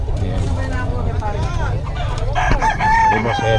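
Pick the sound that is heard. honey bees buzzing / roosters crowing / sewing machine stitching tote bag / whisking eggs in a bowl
roosters crowing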